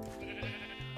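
Sheep bleat in the Minecraft video game, a short, faint, wavering call heard close and alone.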